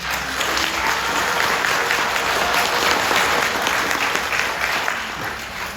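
Audience at a Korean policy debate on permitting leased long-term care facilities breaks into loud, sustained applause, a dense even patter of many hands lasting several seconds without a voice over it.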